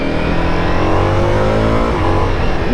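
A Ducati Multistrada V4 motorcycle with its Granturismo V4 engine revving hard, a loud, close, continuous rising roar with dense harmonic tone sustained throughout.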